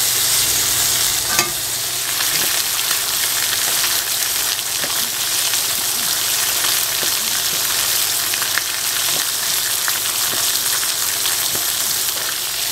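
Pork chops frying in oil in a large wok give a steady, close sizzle with scattered crackles and pops throughout, with no voices.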